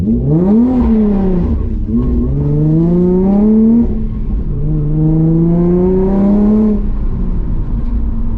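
A Nissan 350Z accelerating hard with traction control still on, engine note rising loud and close through a few gear pulls, each climb briefly dipping as the power cuts back before revving up again.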